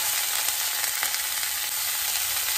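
Broccoli florets fry in hot oil with a steady, dense sizzle that holds evenly throughout, loud and close with no voices.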